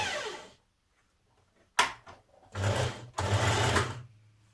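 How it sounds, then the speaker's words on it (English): A sewing machine stitches a dart in dress fabric with short whirring runs, close and clear, separated by brief pauses and a sharp click. "we are stitching this dart here"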